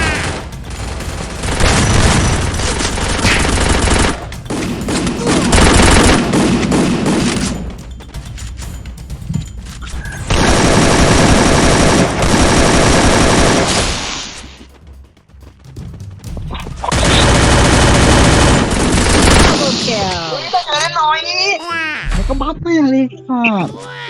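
Gunfire from the mobile battle game Free Fire comes in loud, dense bursts of rapid shots, separated by short quiet gaps, with a voice briefly heard at the end.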